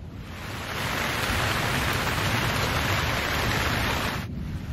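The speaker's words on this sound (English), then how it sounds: "the 2-day non-stop downpour that hit us a couple weeks ago" Heavy rain pours down in a dense, steady roar of broadband hiss, loud and continuous, swelling up within the first second and holding without a break.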